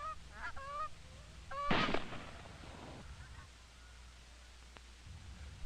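Several Canada geese honk in short repeated calls, fairly distant, followed by a loud sharp gunshot and then quieter outdoor ambience.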